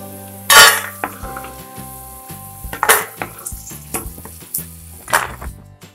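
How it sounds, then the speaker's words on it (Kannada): Peanuts fry in oil in a pan for tamarind rice, a steady sizzle punctuated by sharp clinks and scrapes of a spoon stirring against the metal pan. "ಶೇಂಗಾ ಬೀಜ ಹಾಕೊಂಡು ಹುರ್ಕೊಂಡು ತಕ್ಕೊಳ್ಳೋಣ"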